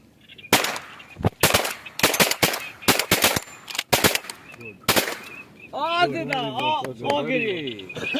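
Shotgun blasts ring out during a duck hunt by the Indus river, about ten sharp, loud reports, some in quick pairs, followed by someone talking excitedly.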